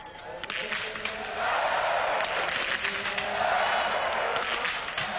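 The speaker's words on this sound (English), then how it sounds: "you're going to hear the crowd going wild for every shot that's hit" A biathlon crowd at a mixed relay in Ostersund, Sweden swells into loud cheering and applause as shots hit the targets, rising in waves with a commentator talking over it.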